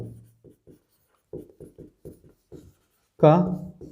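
Chalk or marker strokes on a board during a Class 9 maths lesson on algebraic identities, a series of short scratchy taps spaced through the clip, close and fairly clear, with someone speaking briefly at the end.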